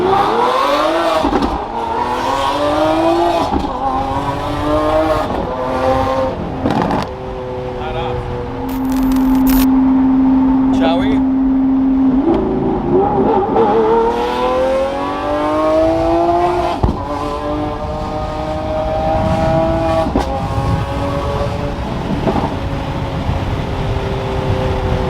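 A Lamborghini in sport mode pulls hard through several rising gears with brief shift dips, the engine loud and close from inside the cabin, a steady drone midway before it climbs again.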